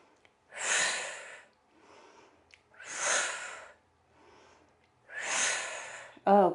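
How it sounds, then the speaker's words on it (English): Slow, deep yoga breaths during a standing pose in a weighted full-body session, with three loud, close breathy exhales alternating with softer inhales in a steady rhythm and a short click at the end. "Inhale, exhale."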